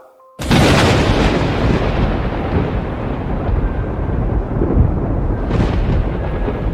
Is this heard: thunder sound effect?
yes